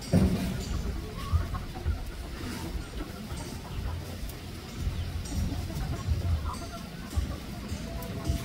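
Native chickens cluck and murmur around a farmyard where goats are fed, soft repeated calls over a busy rustling background with occasional thumps, nobody speaking.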